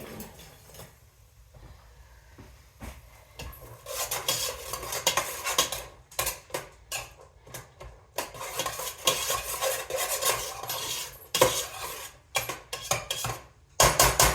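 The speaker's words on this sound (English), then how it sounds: "You want this to warm up and saute in the butter till it like gets translucent." A spoon scrapes and clinks around a pot as chili ingredients sauté in butter, irregular stirring strokes and metal knocks over a soft sizzle, close and fairly busy with short pauses.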